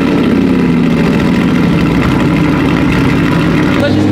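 A cheap Audi R8 engine running at a steady idle, loud, close and continuous, with a slight rise toward the end.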